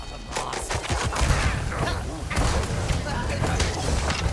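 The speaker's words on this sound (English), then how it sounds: "you double tap the shotgun" Shotgun fire in the video game Mouse: P.I. For Hire, a rapid run of heavy booming shots and thuds in quick double bursts, loud and dense, with a voice speaking over parts.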